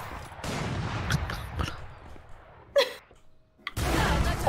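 Scattered bursts of gunfire in Valorant, a few sharp shots and short volleys separated by quieter gaps, with a louder spell at the end and no clear talk.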